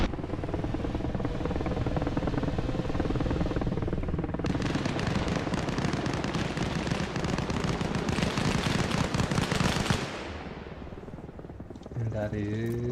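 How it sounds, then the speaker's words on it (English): Rockets fired by the Twisp in a video game, a dense continuous roar of launches and blasts that fills the mix for about ten seconds, then drops to a quieter rumble with a short tonal sound at the end. "Twisp shooting rockets"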